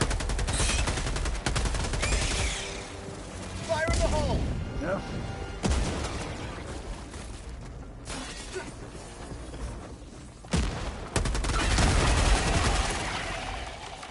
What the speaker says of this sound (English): I'm throwing a Gatling barrage.